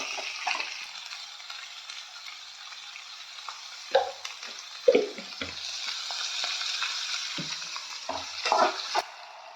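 Onions sautéing with a little salt in a pan for egg fried rice, a continuous bright sizzle punctuated by occasional spatula scrapes and knocks, close and fairly loud with no voices.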